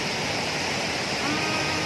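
Two-toned waterfall with a blue and a clear cascade, heard as a steady, dense roar of falling water that stays constant and loud throughout.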